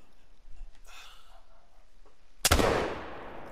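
A single sharp muzzle-loader rifle shot cracks out close and loud at a moose, its boom rolling off into a decaying echo, preceded by quiet breathing.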